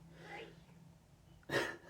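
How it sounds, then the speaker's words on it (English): A single short sneeze bursts out near the end, following faint breathy sounds in a quiet room. "Someone sneezed in the house."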